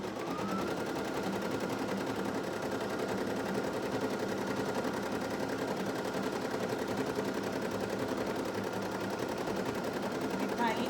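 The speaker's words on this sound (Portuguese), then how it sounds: "Definir o bordado na máquina e colocar para iniciar" An embroidery machine stitching a design for a mask holder, running with a steady, fast mechanical chatter that stays even and moderately loud throughout.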